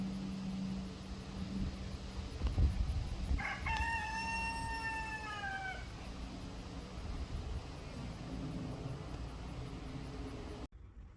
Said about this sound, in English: you can hear the rooster in the background crowing away